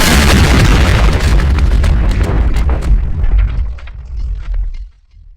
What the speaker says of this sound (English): The explosion tore through the capital with horrifying speed.